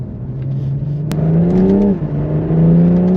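A BMW M2 runs in second gear around corners, its engine giving a loud, close, steady drone that dips as it eases off and then builds again.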